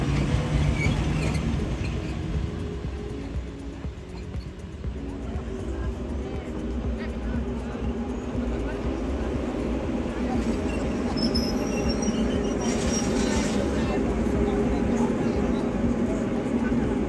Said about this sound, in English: Departing Disentis